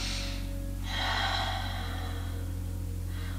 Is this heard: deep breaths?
yes